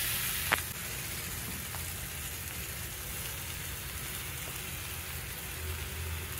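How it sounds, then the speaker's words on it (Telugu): Grated papaya fries in a pan for a sweet halwa, giving a soft, continuous hissing sizzle with a single sharp tap early on, fairly quiet and without any talking. "బొప్పాయి తురుము వేగిపోయిందండి."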